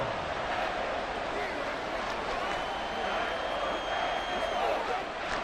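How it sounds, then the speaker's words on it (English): A roaring stadium crowd in the video game Madden 24 fills the scene with a steady, dense wash of cheering that swells slightly, with a faint game announcer voice mixed beneath. "A big play here as the crowd noise rises."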